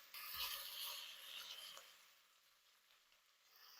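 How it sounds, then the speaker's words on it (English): A tablespoon of tomato paste toasts on the bottom of a pan for Irish stew. A quiet, close, steady sizzle fades slightly, with a brief stir partway through. "we're just going to toast that on the bottom of the pan"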